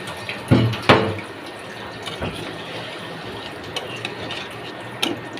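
A little water poured into a pan of chicken roast curry splashes in two short bursts near the start, followed by quieter clinks and stirring sounds.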